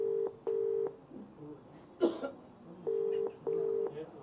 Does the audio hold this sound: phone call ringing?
yes